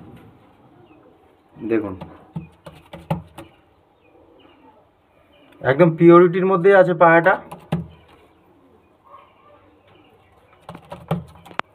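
Pigeons cooing in a loft among birds kept for sale, a few short coos early then a longer rolling coo bout mid-way, close by, with someone talking intermittently over and between the calls.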